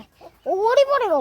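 A single brief, drawn-out cluck from a chicken, close and fairly loud, after a moment of near silence.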